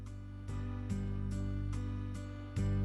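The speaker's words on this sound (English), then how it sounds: "And you can hear the guitar picking." An electronic keyboard plays a soft rock accompaniment style with picked guitar notes over sustained low chords, a steady rhythmic pattern with clear attacks roughly every half second, moderately quiet and with no voices.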